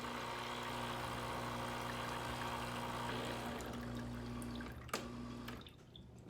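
A Breville Barista Express espresso machine pumps during descaling with its water tank running dry: a steady loud mechanical hum with a constant tone, broken by a sharp jolt near the end as the pump note falters.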